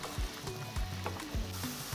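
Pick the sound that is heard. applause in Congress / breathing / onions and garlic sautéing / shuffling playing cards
onions and garlic sautéing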